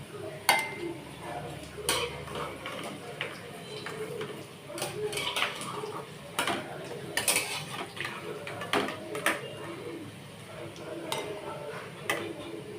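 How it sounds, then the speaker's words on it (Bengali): Fried fish-roe fritters are lifted one by one from a pan, giving light scattered clinks and scrapes of a utensil against metal over a low kitchen background. "এবার আমি এগুলোকে এক এক করে তুলে নেব।"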